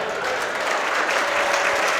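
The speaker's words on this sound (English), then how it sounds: "Can we give Ray Popejoy a round of applause?" Audience at a Boys & Girls Club of Livingston County fundraiser event applauding steadily, a dense, continuous wash of clapping from many hands in a room, fairly loud throughout with no talk over it.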